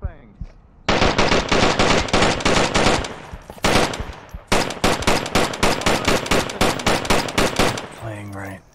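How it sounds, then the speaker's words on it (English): Rapid automatic gunfire from the VR shooter Onward, long dense bursts of machine-gun fire with a brief gap, loud and close, ending with a short clatter. "Stop shooting each other and start shooting the targets"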